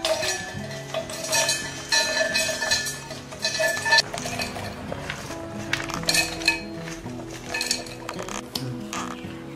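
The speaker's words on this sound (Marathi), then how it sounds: "तर मी इथे मिक्सरचं भांडं घेतलंय, त्याच्यात आपण हे जे काजू बदाम आहेत ते काढून घेऊ." Cashews and almonds tumble into a steel mixer jar, giving a run of bright metallic clinks and rattles that come in uneven clusters, fairly close and clear.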